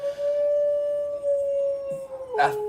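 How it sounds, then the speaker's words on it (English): A sleeping dog lets out a long, drawn-out howl that holds a steady pitch for about two seconds, then breaks into a brief higher yelp at the end, fairly close with faint background talk. "That's the dog howling because she's asleep."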